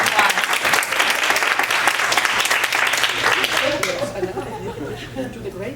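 Conference audience applauding, a dense, steady wash of clapping that fills the room for about four seconds before fading out, followed by faint scattered chatter and a little laughter.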